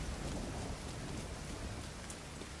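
Rain pours down in The Division 2 video game, a dense, steady wash of rainfall with a low rumble beneath, constant and fairly even for the whole short stretch, with no voices.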